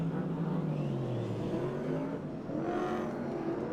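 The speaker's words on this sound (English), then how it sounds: "He's trying to fire the car up, you can see." Speedway race car engines roar continuously and loudly, their pitch climbing and falling as they rev, with a second engine tone rising toward the end, and no voices over them.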